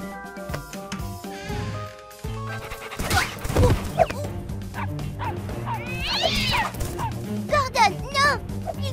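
A dog yips and barks excitedly amid music and voices, with a high whimpering cry near the end.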